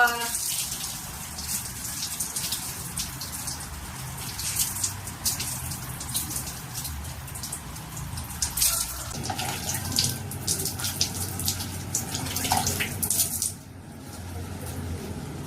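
Water runs and splashes steadily from a tap while a dog with a skin condition is bathed, loud and continuous, briefly dropping near the end, with a few voices in the background.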